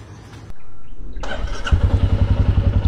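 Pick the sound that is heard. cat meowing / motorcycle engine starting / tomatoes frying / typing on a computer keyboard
motorcycle engine starting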